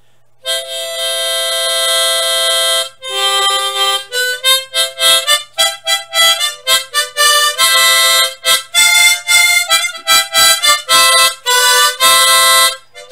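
A tremolo harmonica holds two long, loud single-hole notes, then plays a quick series of short, rhythmic puffs, bright and up close.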